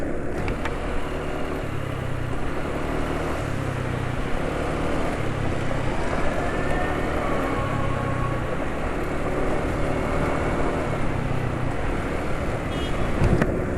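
A motorcycle engine idles roughly after an oil change, a steady low rumble with a faint uneven pulsing throb and no talk.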